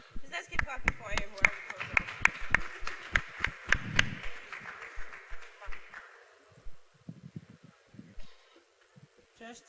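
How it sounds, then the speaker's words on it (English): A crowd claps in scattered, uneven bursts for an attendee at the DataFest Africa 2022 data event. The claps fade after about six seconds, and a person talks over them. "Let's keep clapping for him."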